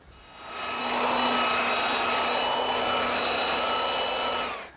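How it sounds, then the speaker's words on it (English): A power sander runs across glued-up wood panels for a hearth-side settle, a steady loud whine that holds even for about four seconds after a quick spin-up, then cuts off at the end, with no talking. "scrape off the excess glue and lightly sand both sides"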